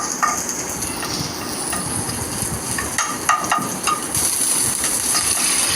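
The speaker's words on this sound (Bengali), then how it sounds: "ওই প্যানেই তেল দিয়ে পেঁয়াজ কুচিগুলো দিয়ে দিলাম" Chopped onions fry in oil in a pan just used to brown chicken for ramen, giving a steady close sizzle with occasional stirring clatter and scraping throughout.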